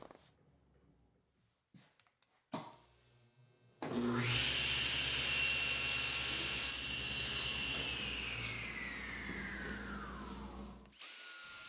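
A table saw cuts off the bottom of a wooden drawer side at the groove line, a loud steady whine of the blade through the wood lasting about seven seconds after quieter handling noises, alone with no talk.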